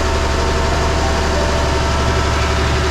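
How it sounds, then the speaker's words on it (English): Twin Perkins 6.354 diesel boat engines idle in a steady, even drone, loud and close, with a deep low rumble and vibration that holds unchanged throughout, no voices. "Both engines run the way they should."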